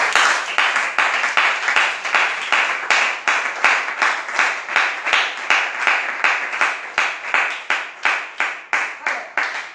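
A church congregation claps in a steady, fast unison rhythm, loud and close, sustained throughout with sharp regular hand strikes.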